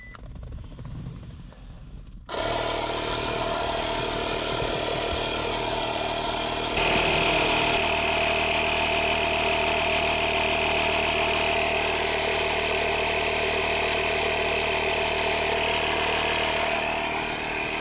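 A farm engine is started by ignition and settles into a steady idle, loud and close, running continuously after a brief quiet lead-in.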